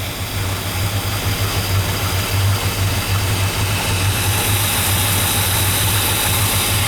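A 1957 Chevrolet Bel Air engine idles in a steady, even rumble with a low pulsing throb, up close and loud, running a little cold with no voices over it.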